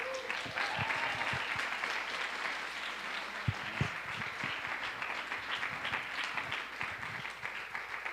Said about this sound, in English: So I want you to give a big round of applause for Matthew.